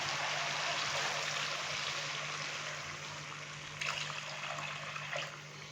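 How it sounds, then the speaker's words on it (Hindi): Steady water, two glasses, pouring and splashing into a pot of potato beef curry for several seconds, with a low background hum and a brief clink near the end. "डालूंगा 2 गिलास पानी के।"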